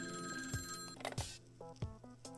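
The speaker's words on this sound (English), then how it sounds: "The phone was ringing in its usual shrill tone." Shrill wall telephone bell ringing in repeated bursts, a bright metallic trill with sharp clacks between rings, close and clear with no talking.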